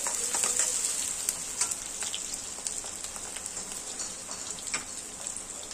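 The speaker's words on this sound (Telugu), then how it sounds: "బాగా వేగాలి ఉల్లిపాయలు। ఎర్రగా వేస్తే మంచి టేస్ట్ వస్తుంది చికెన్ ఫ్రైకి।" Onions frying in oil in a pan for a chicken fry, a steady hissing sizzle with occasional soft stirring scrapes and pops, close and moderately loud, with no speech.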